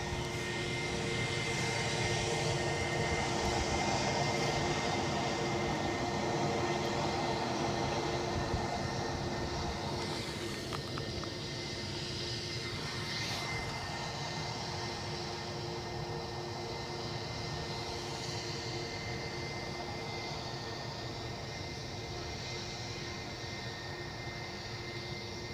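An aircraft departing Edinburgh Airport for Heathrow, its engines producing a sustained broadband roar that swells early and then holds slightly softer for a long stretch, with no one talking.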